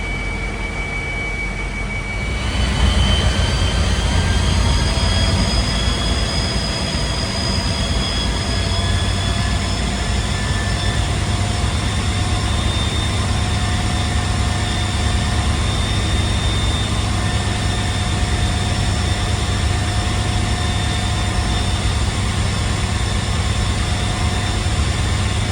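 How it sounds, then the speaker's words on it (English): An EMD diesel locomotive engine runs at the Metro-North New Haven open house: a loud, steady near drone with tonal whines that swell after a couple of seconds and hold throughout, with no talking. "It's a Grand Republic's diesel engine."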